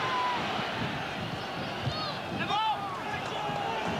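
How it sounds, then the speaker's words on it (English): A football crowd at Loftus Road roars and urges Queens Park Rangers on against Newcastle United in 1994, a broad, continuous swell of voices and whistles under a commentator's talk. "the crowd urging Queen's Park Rangers just to get the ball in the box"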